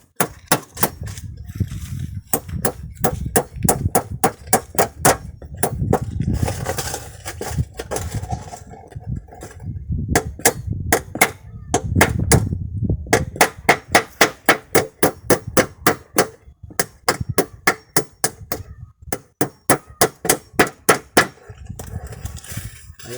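A hammer beats on metal while a tire is being cut and shaped into an animal feeder, coming as long runs of fast, sharp, ringing blows, loud and close, with short pauses between bursts.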